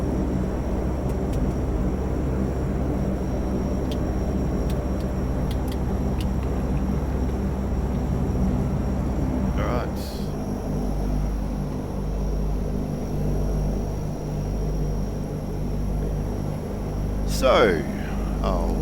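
Engines of a 1957 Convair CV-580 turboprop airliner running on the ramp, a steady loud drone with a deep low rumble and high whine, building in intensity around the middle as engine 2 is started; people talk faintly over it.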